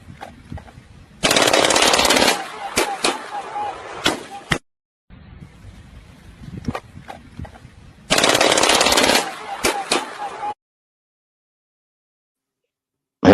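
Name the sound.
automatic Glock pistol firing full-auto, mag dump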